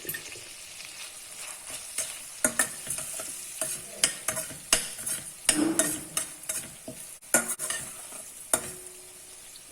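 Green chilli fried rice with turmeric is stir-fried in a pan, with a steady sizzle under repeated scraping and clinking strokes of the spatula at close range.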